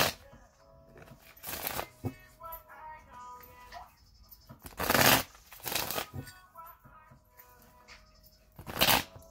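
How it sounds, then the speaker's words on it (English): Tarot cards are shuffled in several quick riffling bursts separated by quieter pauses, close and fairly crisp. "So let's shuffle it three more times"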